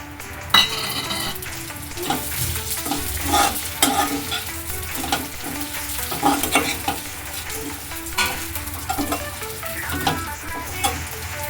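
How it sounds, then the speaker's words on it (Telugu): Vermicelli roasting in ghee in a pan for semiya kesari, a continuous sizzle with repeated stirring scrapes and light utensil clinks, steady and close throughout. "సేమియా కూడా వేసి వేయించుకుందాం."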